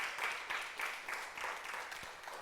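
A church congregation at a Sunday service claps in a quiet, distant, rhythmic pattern, the regular bursts of clapping repeating steadily to the end.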